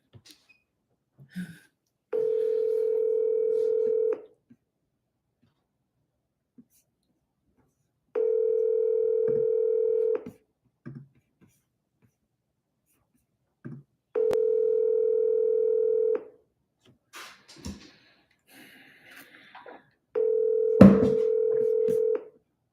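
Ringback tone on an outgoing phone call before voicemail picks up: four evenly spaced two-second rings separated by silence, clean and moderately loud, with a few faint handling clicks between them.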